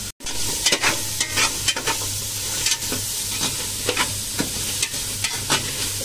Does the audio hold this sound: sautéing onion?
yes